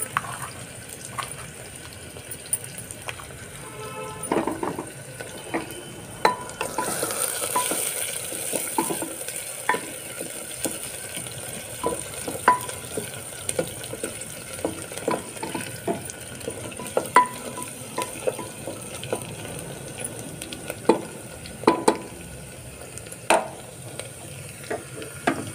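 Dried red chilies and whole cumin seeds frying in hot oil, a low steady sizzle with scattered spatula scrapes and taps throughout, a brief louder hiss partway in, close and fairly quiet with no talking.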